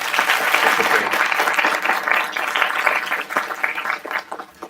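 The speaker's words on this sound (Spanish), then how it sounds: "Un aplauso para él." An audience at an academic talk on adolescence applauding, a full burst of many hands clapping together that holds steady and then thins out and fades toward the end.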